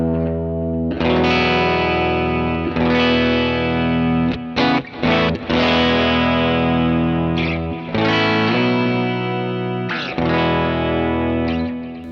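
A bright, jangly electric guitar played through a Vox AC30 amp patch with a delay effect, sustained chords ringing continuously with repeating echoes and brief gaps between strums, loud and alone.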